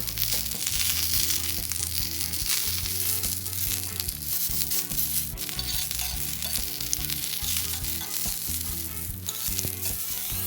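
Garlic frying in hot oil while eggplant bharta is being made: a loud, dense, continuous sizzle and crackle, close up, with occasional stirring scrapes and no voices.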